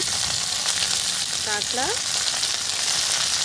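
Koi fish curry with ridge gourd frying in a pan, a loud steady sizzle throughout, with a short voice heard briefly over it.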